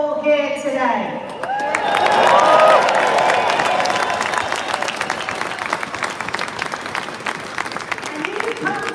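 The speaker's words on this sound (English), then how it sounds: "let's give all of them a loud cheer" At an outdoor farmers' protest, a crowd claps and cheers loudly and steadily for several seconds, with a speaker's voice audible over the start and end of the applause.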